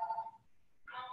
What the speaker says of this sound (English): Sorry about my phone.